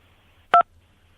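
A single short two-tone keypad beep from pressing the 2 key on a mobile phone during a call, clear and isolated over a faint low hum.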